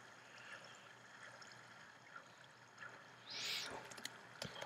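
Flowing water in Minecraft, a soft, steady trickling stream running quietly throughout, with a brief louder splash near the end.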